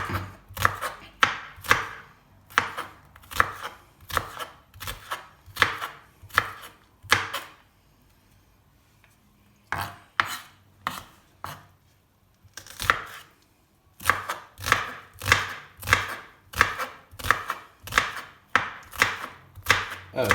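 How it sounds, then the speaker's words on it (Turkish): Rapid, steady knife chops on a cutting board as onions are chopped, in bursts, with a short quiet pause midway before the brisk rhythmic chopping resumes. "Soğanlarımızı da şöyle doğruyoruz."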